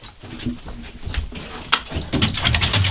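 A dog indoors, heading upstairs at lunchtime, gives short whimpers and yips among shuffling and paw or footstep sounds, close and moderately loud with no clear talk.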